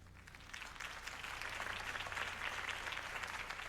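Crowd applause after a campaign speech in Batman: The Telltale Series, a dense wash of clapping that swells slightly and holds steady, heard from a distance.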